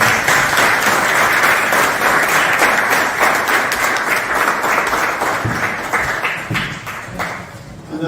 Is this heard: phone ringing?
no